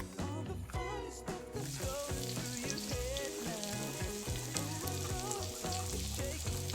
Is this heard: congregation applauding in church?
no